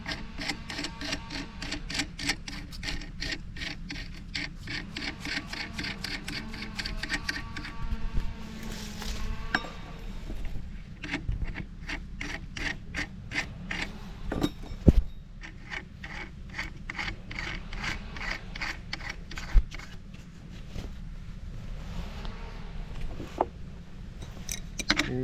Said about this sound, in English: now we can start tightening it with this wrench